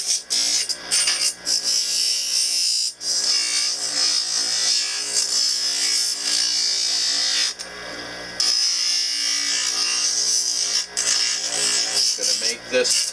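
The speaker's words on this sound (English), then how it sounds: "Going to trim the pallet to where I put my scribe line." A high, continuous whine of a rotary dental lab bur grinding an acrylic partial denture palate, steady with brief dips as the tool lifts off the acrylic, under occasional talk.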